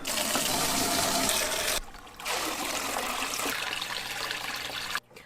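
Tap water is dumped into a plastic shoebox used to hold a pet turtle, giving a loud, steady rushing splash that stops briefly, resumes for a few seconds and then cuts off abruptly.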